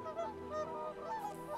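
Several geese honk in quick succession in the survival city-building game Settlement Survival, clear repeated nasal calls over a faint steady background.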